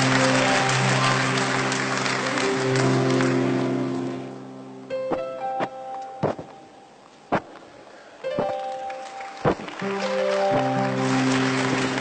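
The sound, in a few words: audience applause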